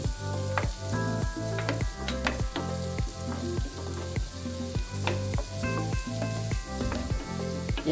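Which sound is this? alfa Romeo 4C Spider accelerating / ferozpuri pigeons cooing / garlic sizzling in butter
garlic sizzling in butter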